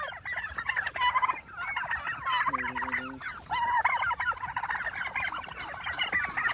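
Royal Palm turkeys and guinea fowl on a farm, a dense, continuous chorus of gobbling and harsh chattering calls, loud and close, with several overlapping birds.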